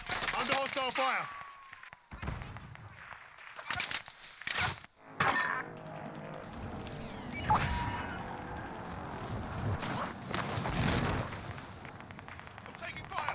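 Bursts of gunfire in an online shooter, scattered sharp cracks and rattling volleys mixed with game effects while a player talks over much of it.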